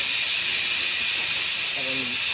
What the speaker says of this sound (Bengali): প্রেশার কুকার দিয়ে দিয়েছে ডাল হয়ে এসছে